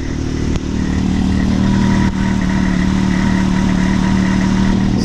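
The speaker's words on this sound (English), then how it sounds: "Super quiet, super quiet." A Can-Am Maverick X3 side-by-side on 32-inch tires idles steadily and close, a smooth, quiet, continuous engine drone with no revving.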